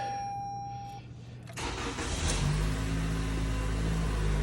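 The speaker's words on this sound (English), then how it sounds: "Crank up your car." A 2018 Toyota Camry engine cranks briefly with a whir, then catches and settles into a steady, fairly loud idle that carries on to the end, with no one speaking.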